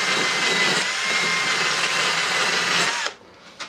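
A bench grinder runs steadily while a vice is being restored, a loud continuous whirring whine for about three seconds before cutting off abruptly, followed by a brief faint knock.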